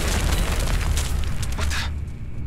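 Missile explosions in the space-combat game Everspace 2 roar as a loud, dense rumbling boom that fills the first two seconds before tapering into a lower rumble.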